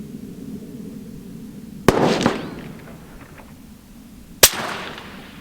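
Two sharp rifle shots fired at a long-range steel target outdoors, each a loud crack with a short rolling echo, spaced a few seconds apart over a quiet background.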